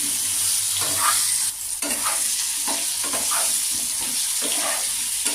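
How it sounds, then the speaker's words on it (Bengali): Potatoes fry in hot oil for a Bengali paneer curry, crackling with a continuous, close, loud sizzle. Repeated stirring strokes scrape through the sizzle. "এবার আমি আলুগুলো ছেড়ে দেব আলুগুলো লাল করে ভেজে"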